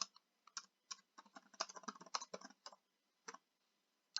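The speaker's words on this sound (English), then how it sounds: "Just typing any old text here just for you to see the formatting capabilities" Someone types on a computer keyboard in an irregular run of soft key taps. The taps come in quick bursts, then thin out to a few isolated presses, quiet and close with no talking.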